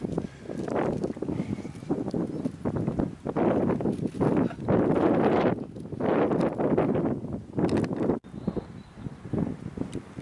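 Cold wind on a mountain hike toward Hallett Peak buffets the microphone in loud, uneven gusts and roaring bursts, with brief lulls between them.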